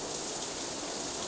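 Steady rain in the Katawa Shoujo visual novel game, a dense even hiss of falling drops, loud and constant with no voices.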